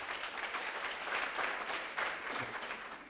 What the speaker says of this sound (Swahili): Tupigie makofi wale karao wame come up leo.